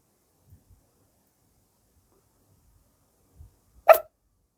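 A person imitating a dog, one short sharp bark-like yelp near the end after near silence with a few faint low thumps.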